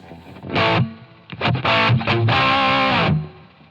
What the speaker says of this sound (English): I really like this Ganymede reverb, by the way